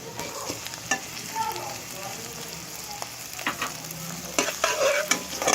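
Chopped tomatoes sizzling with softened onions in a pan over a slow flame, cooked for egg macaroni, with a steady close frying hiss broken by repeated scraping stirs, and no talking.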